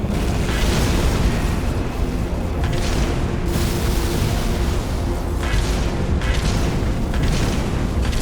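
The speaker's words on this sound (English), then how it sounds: "I was shooting with this Gauss cannon and he wouldn't die" Gauss cannon fire and explosions in Halo: Reach on Xbox 360, on Legendary difficulty: a dense, loud, unbroken barrage of booming blasts that fills the whole stretch.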